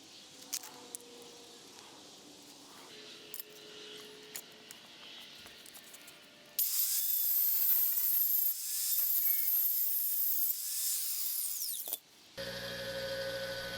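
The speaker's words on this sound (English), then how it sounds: "I'm going to mark on the rod where I want to cut it." A threaded steel rod for a Wheel Horse 312 8-speed clutch rod is cut with a power tool: quiet clicks and handling first, then a loud, harsh grinding screech for several seconds, a brief pause, and a final burst.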